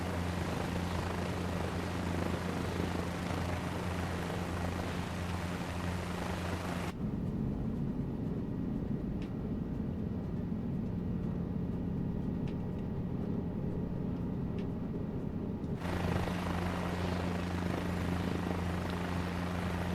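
Helicopter taxiing in Microsoft Flight Simulator 2024, a steady loud rotor and engine drone with low humming tones that runs throughout, briefly muffled in the middle section before returning at full strength.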